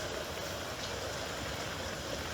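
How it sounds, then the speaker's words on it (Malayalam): Heavy rain falls steadily outdoors in a garden, a dense, faint hiss of drops with no breaks. "അത്യാവശ്യം നല്ല മഴ പെയ്യുന്നുണ്ട് കേട്ടോ"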